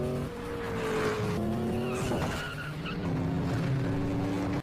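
Race cars skid with squealing tires and roaring engines during a heated battle for first place in a film race scene, a loud continuous mix of sliding screeches and revving that carries on throughout with no talking.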